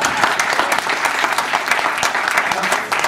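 Sustained applause from an audience at an installation ceremony, dense steady clapping filling the room for several seconds at close range with no voices over it.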